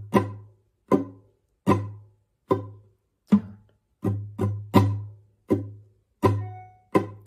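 Fast flamenco rasgueado on a guitar: about a dozen sharp, bright strummed chords, evenly spaced at first and then in quicker clusters, each ringing briefly, close and clear with no talking.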